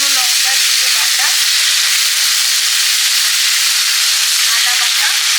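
Koi fish sizzling and frying in a pan with taro root and spices such as black cumin, dried chilli and cumin paste, a steady close, loud hiss running throughout with faint spatters.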